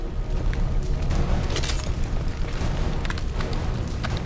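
A rocket explodes against a biotic charge in the Mass Effect game, a dense low rumbling boom that stays loud and steady throughout, with faint crackling on top.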